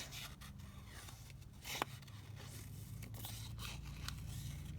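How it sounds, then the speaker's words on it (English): Scissors quietly snip and rub through paper while fussy cutting out a paper flower, a faint, steady, close scratching with one brief sharper cut midway. "So let me just cut this out."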